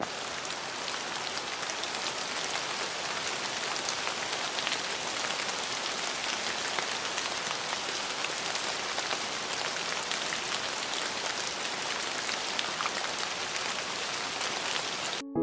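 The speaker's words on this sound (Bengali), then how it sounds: "বৃষ্টির শব্দ শুনতে আমার তো খুবই ভালো লাগে" Heavy rain pours down in a dense, even hiss of countless drops striking surfaces, steady and loud throughout with no voices.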